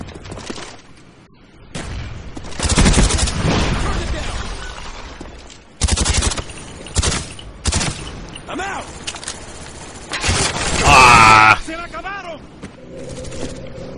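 Call of Duty: Black Ops Search and Destroy on PS3 fills the mix with bursts of rapid gunfire, shots and impacts, with a player talking over parts of the game audio.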